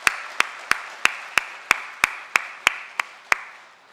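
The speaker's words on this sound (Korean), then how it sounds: "우리 따뜻한 박수로 환영하겠습니다." A small church congregation claps in welcome for a newly registered member during a Sunday worship service, about eleven crisp, evenly spaced claps, close and clear.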